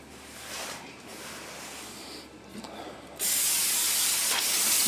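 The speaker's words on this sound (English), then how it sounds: "Nothing like a little brake clean I clean my workbench with." Aerosol brake cleaner sprayed onto a workbench, faint hissing at first, then a loud, sustained close spray hiss for the last couple of seconds.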